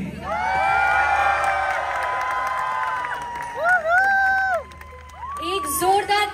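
A large concert crowd at a show in Pune cheers and whoops loudly, with long rising shouts and screams from many people carrying through several seconds and clapping buried beneath the din.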